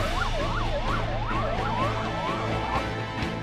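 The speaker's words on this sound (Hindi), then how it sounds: "सायरन बजाती हाईटेक एम्बुलेंस मुसावनी की सड़कों पर दिन रात दौड़ रही है" An oxygen-equipped high-tech ambulance siren wails on busy town roads in Musabani, its rising and falling tone repeating steadily and loud over constant traffic rumble, with no talk.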